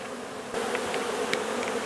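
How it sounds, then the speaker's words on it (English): Honey bees swarm and buzz around an opened hive built inside a double-wide, a steady close droning hum with a few brief louder passes near the listener. "Lots of bees."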